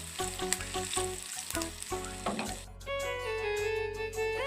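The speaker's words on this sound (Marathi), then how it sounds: "मिरच्या छान तळलेल्या आहेत." Green chilies frying in hot oil for a tempering, a close crackling sizzle with spoon stirring that gives way to a smoother steady hiss near the end.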